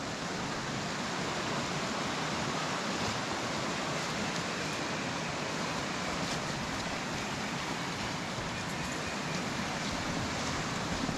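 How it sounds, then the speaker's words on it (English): Water from a burn near Haltwhistle rushes under a road through a drainage duct, making a steady, full whitewater roar with no pauses. "There's water coming underneath the road from the other side there through that aqueduct"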